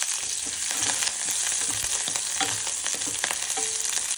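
Green chillies frying with garlic in a pan, a loud steady sizzle and crackle with a few stirring knocks throughout.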